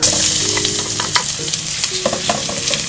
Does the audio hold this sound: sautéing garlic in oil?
yes